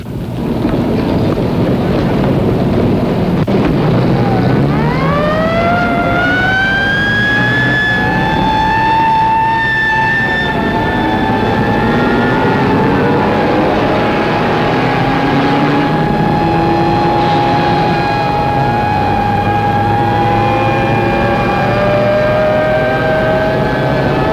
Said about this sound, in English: Big Easy 3-7 with number 4 engine on fire will make an emergency landing on runway 27 left